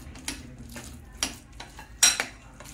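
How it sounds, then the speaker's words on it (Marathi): Rava and curd idli batter stirred in a bowl with a spoon, giving soft scraping strokes and a few sharp clinks of the spoon against the rim, spread in uneven bursts. Close and fairly quiet, with no talk. "हे बघा असं एकदम असं मिक्स करायचं"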